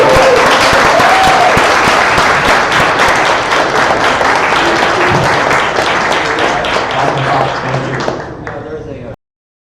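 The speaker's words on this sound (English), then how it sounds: "Make some noise for Rohini again." An audience at an Astronomy on Tap science talk night in San Antonio, Texas claps and cheers for a speaker, a dense, loud burst of applause that fades near the end.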